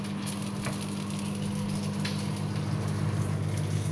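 Fish sizzles and crackles steadily in hot oil, a close, continuous frying hiss with small pops, no voices.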